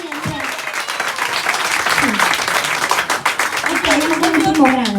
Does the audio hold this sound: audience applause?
yes